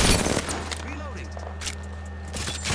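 Gunfire striking a player in Apex Legends, a dense burst of rapid shots opening the clip over a steady low game hum, with scattered impact cracks and pings continuing after.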